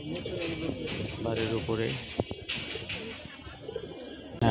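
Pigeons coo above a house while young birds fly nearby, a soft cooing mixed with occasional chirps running under steady close talk.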